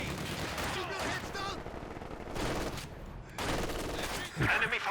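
Gunfire in a Company of Heroes 2 battle, a sniper rifle firing on a Soviet ZiS gun, heard as repeated sharp cracks within a dense, continuous din of combat noise, with a voice talking over it.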